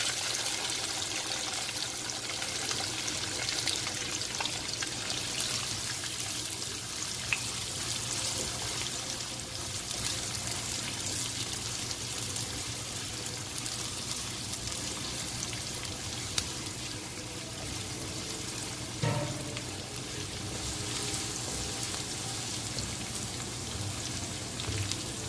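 Chopped large onion and garlic fry in a pot for a dhaba-style mash daal, a steady, even sizzle that continues unbroken throughout, with no talk.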